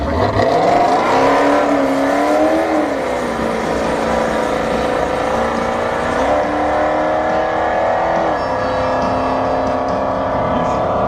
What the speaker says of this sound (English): we got Kit here in the left lane, 3rd Gen Firebird, and the Model S Plaid